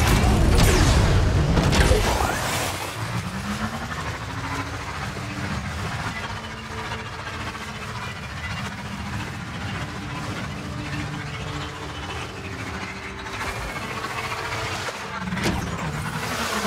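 A vehicle being driven in the video game Star Wars Outlaws, its engine a steady droning hum with a rising tone after a loud opening rush, holding at a continuous level throughout.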